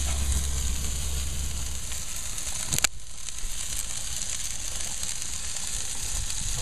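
Spatchcocked chicken pieces sizzle steadily on a hot grill after being flipped, a constant close broadband frying hiss with a single sharp crack partway through and no talking.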